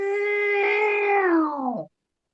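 A single human voice imitates a cat pretending to be a backhoe: one long, loud, drawn-out meow-like wail that holds steady, then bends downward and cuts off, heard alone and close.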